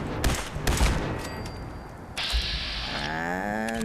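Laser turrets firing in Fallout 4, a run of loud, harsh zapping bursts followed by a sustained buzzing, warbling tone, with no talk.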